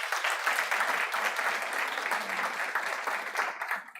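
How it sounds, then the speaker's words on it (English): An audience at a research findings event applauds, a steady wash of dense clapping holding loud for several seconds before thinning out at the end. "can we give them a round of applause?"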